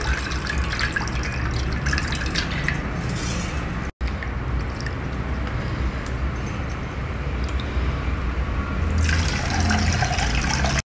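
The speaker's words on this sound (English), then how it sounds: "we have to wash it thoroughly in plenty of water 2 or 3 times" Little millet grains being washed thoroughly in plenty of water, a steady splashing and swishing of liquid lasting throughout with a brief break partway, loud and close.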